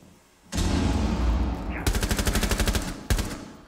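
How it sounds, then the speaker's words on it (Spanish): Rainbow Six Siege gunfire: a long close burst of shooting gives way to a rapid, evenly spaced automatic volley, then one last sharp shot. "me están disparando de todos los lados"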